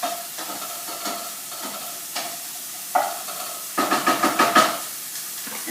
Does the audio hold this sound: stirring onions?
yes